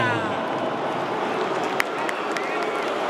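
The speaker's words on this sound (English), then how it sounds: "you can hear the reaction of the crowd here" Boxing arena crowd after a split draw decision in a Riyadh Season fight, a dense continuous roar of voices and murmuring with scattered sharp claps, loud and sustained throughout.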